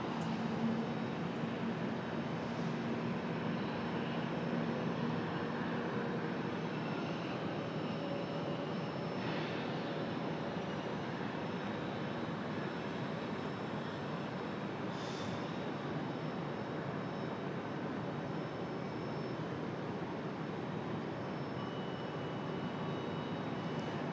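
A Frontier airliner moves off at Raleigh-Durham airport, a steady, distant jet engine rumble and hiss that stays even and moderately faint throughout, with no voices.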